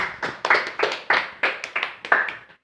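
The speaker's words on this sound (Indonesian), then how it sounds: "tepuk tangan buat kelompok 1" A small group claps together in a classroom micro-teaching session, a short burst of several sharp, fairly close hand claps in an uneven rhythm that fades out.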